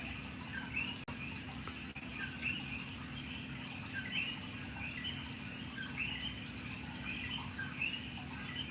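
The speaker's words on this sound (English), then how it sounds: "listening to some Cokie Frogs in the background." Coqui frogs chirp in the background at night, repeated faint high two-note calls over a steady hum of insects, distant and continuous with no talk.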